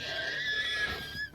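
A horse in the Minecraft mod TerraFirmaCraft gives a single drawn-out whinny, a wavering high neigh that is fairly close and fades at the end, with no other sounds around it.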